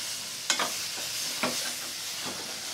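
Bitter gourd fries and is stirred in a pan, with a soft steady sizzle broken by a few scraping stir strokes, close to the microphone and without talk.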